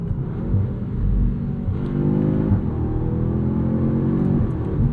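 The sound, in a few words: 2025 Audi S3 turbo engine revving with burbles on over-rev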